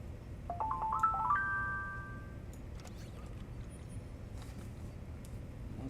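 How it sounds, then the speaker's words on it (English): A mobile phone ringtone cuts into a Star Trek Online livestream as a short rising run of bright electronic tones, repeated a few times and then ringing briefly over steady low game background. "Gotta remember to turn my damn phone off when I'm streaming."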